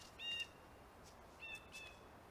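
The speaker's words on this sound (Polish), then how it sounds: "Ptaszki." Birds in a forest from The Vanishing of Ethan Carter, two faint short chirping calls about a second apart over quiet ambient background.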